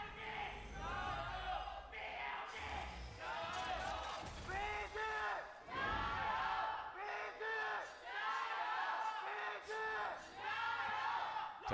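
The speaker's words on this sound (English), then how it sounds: "Our crowd it's gone from week 1 to being very structured, you know, one team chant, the other team chant, to now everyone's just letting loose" A large esports arena crowd in Shanghai at a League of Legends match between Bilibili Gaming and Vici Gaming chants and yells in loud rhythmic bursts, with cheers swelling and dipping as a dense roar.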